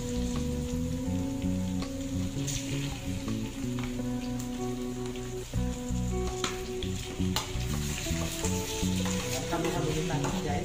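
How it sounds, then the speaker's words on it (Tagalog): Chicken livers fry in a pan with other ingredients, giving a loud, steady, continuous sizzle up close, with occasional stirring clinks and faint background music. "Medyo i-fry-fry lang natin saksit"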